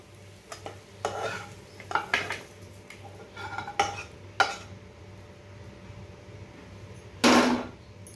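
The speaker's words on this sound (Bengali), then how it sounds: "একটা প্লেট নিয়েছি প্লেটে আমি ঢেলে নেব" Cooked pasta is scraped and tipped from a pan onto a plate with the gas turned off: a few separate scrapes and clinks of a utensil against metal, then a louder rushing slide near the end, close by with no speech.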